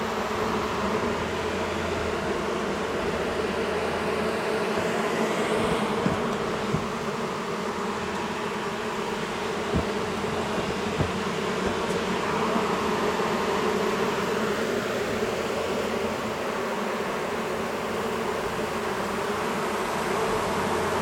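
Honey bees drone steadily throughout a beehive cutout during a bee rescue, a dense, continuous buzzing swarm heard close up with no talking.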